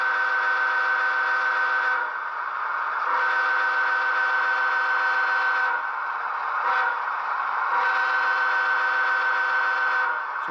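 Sound decoder horn of an Athearn ES44DC model locomotive fitted with a Tsunami 2 decoder, blown in three long, steady, reedy blasts separated by short breaks, loud and clear with no voices.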